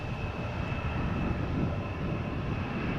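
An Embraer regional jet arrives at Amsterdam Schiphol Airport, its engines giving a steady, moderately loud roar with a faint high whine running through it, heard from behind as it comes in.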